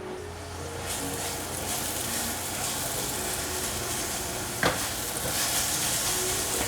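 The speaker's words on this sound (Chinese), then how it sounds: "锅内放入适量的香油，放入金针菇炒香。" Enoki mushrooms stir-fry in sesame oil in a pan, giving a loud continuous sizzle and crackle throughout, with one sharp scrape or clink of a utensil partway through.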